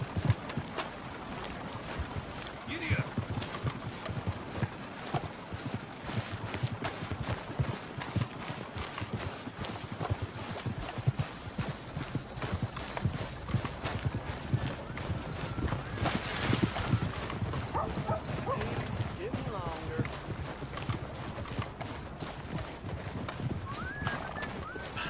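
Horse hooves clip-clop steadily in Red Dead Redemption 2, a continuous rhythmic plodding over a busy bed of ambient game sound, with a brief whinny and wind in the background.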